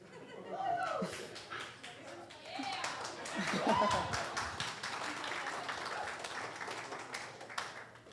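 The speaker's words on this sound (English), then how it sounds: "good applause." Wedding guests applaud during a toast, a ragged burst of clapping mixed with chuckles, laughter and chatter, swelling and fading in waves while voices talk over it.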